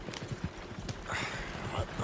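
Horse hooves clip-clop at an easy walking pace in Red Dead Redemption 2, soft and fairly distant, a steady uneven patter under quiet ambient background.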